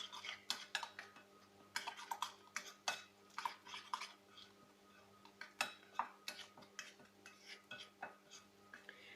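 A spoon clinks and scrapes against a bowl while dry spices such as coriander powder and garam masala are stirred into an aloo tikka mixture, quick irregular taps and scrapes, close and fairly faint.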